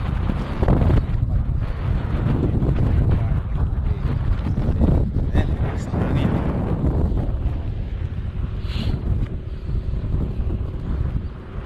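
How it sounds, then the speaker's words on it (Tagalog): Strong wind while cycling outdoors roars and buffets the microphone steadily throughout, a loud continuous rumble with gusts rising and falling. "Sobrang lakas ng hangin."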